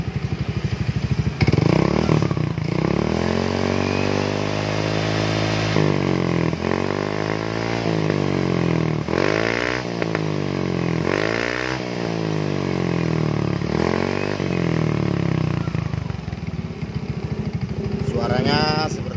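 A Yamaha Xeon scooter fitted with a racing exhaust is revved repeatedly in a workshop setting, rising and falling engine bursts over a steady idle, loud and close, with people talking over it.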